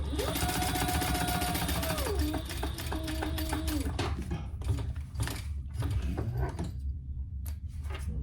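Sewing machine basting stitches on a zippered clutch bag, whirring and clattering mechanically for several seconds before slowing into scattered clicks and stops, with a voice talking over it.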